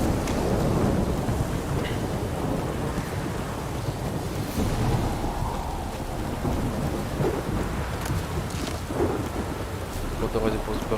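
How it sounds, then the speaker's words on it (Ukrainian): A thunderstorm in the video game The Witcher 3, with dense, constant rain and rumbling thunder rolling under gusty wind, loud and close throughout with no voice over it. "Блискавка, дощ."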